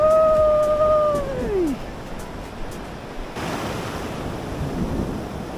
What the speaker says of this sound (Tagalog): Kaya medyo malalakas yung alon mga master.